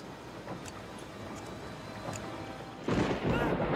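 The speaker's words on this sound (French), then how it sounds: "Et là, l'orage." Thunderstorm in the video game Last Day of June, a continuous hiss of rain with a louder swell of thunder rolling in near the end, heard under a voice.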